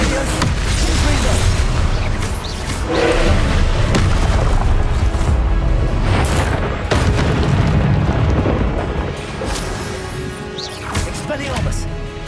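Repeated Confringo explosive spell blasts in Hogwarts Legacy combat, heavy booms and crashing bursts one after another amid a loud, busy mix of effects and music, with voices mixed in.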